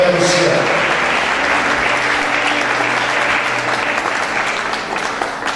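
A church congregation breaks into loud, sustained applause, many hands clapping together close by, the ovation fading slightly toward the end.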